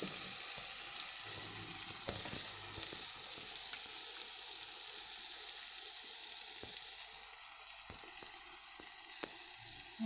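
Rice and chicken sizzle steadily in a hot pan as a spoon stirs through them, a continuous close frying hiss with occasional soft scrapes and clicks, no talking.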